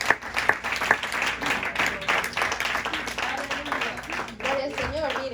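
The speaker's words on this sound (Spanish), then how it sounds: "Den un aplauso al Señor." A church congregation claps steadily throughout, a lively, sustained applause filling the room, with voices rising over it toward the end.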